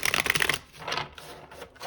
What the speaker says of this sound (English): we're going to do one last shuffle